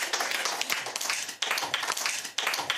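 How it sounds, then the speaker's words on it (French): An audience applauds a volunteer at an eloquence contest, with a dense, close burst of clapping that keeps going and briefly dips a couple of times. "On l'applaudit très fort, s'il vous plaît."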